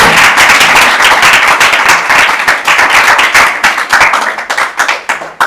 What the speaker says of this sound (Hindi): जो है तालियों से स्वागत करिए